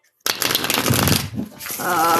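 Tarot cards shuffled close up in one continuous riffling, flapping burst that starts abruptly after a moment of silence and runs loud to the end.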